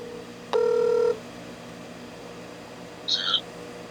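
A telephone being dialed for a call: one long steady dial tone followed after a pause by a brief electronic burst of tones, heard alone against quiet background.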